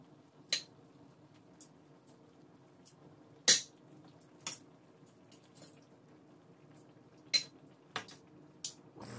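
Sharp metallic clinks and knocks against a pot, spaced irregularly, with faint bubbling of boiling water underneath as pork ribs go in.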